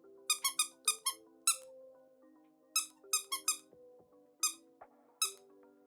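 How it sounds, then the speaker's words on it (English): Squeaker inside a toy squeezed repeatedly: bright, high squeaks in quick clusters of two to four, close and clear over quiet background tones. "This one's still got the squeaker in it."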